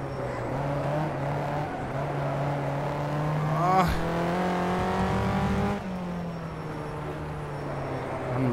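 BMW M6 race car engine in the rFactor racing game, a steady loud drone with a rising rev sweep around the middle and shifting pitch, constant throughout with commentary over it.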